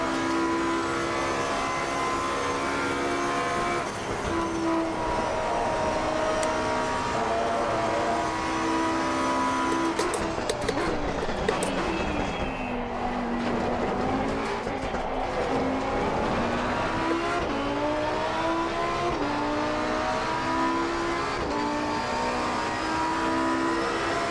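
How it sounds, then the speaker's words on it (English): A Mustang race car engine in Assetto Corsa Competizione, loud and continuous, its revs climbing through gears with shifts and a dip midway as it brakes and accelerates again. "that Mustang is so quick on the straights"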